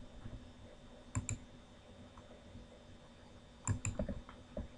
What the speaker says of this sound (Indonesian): ini tinggal diketik aja